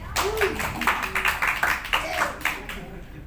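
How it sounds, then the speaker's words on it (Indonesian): Audience clapping at an anniversary concert, a scattered burst of hand claps over a few seconds with a voice speaking beneath, fading toward the end. "Tepuk tangan dong."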